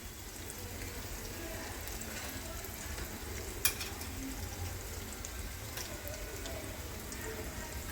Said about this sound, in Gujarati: પેસ્ટ થોડી થોડી સંતળાઈ રહી છે અને એની સ્મેલ પણ આવી રહી છે